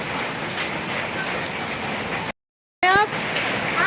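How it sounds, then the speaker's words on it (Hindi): Heavy rain mixed with hail pours down in a dense, steady hiss and patter, broken by a brief silent gap before a short high tonal sound and the downpour resumes. "बहुत तेज बारिश हो रही है और ओले भी गिर रहे हैं साथ ही साथ"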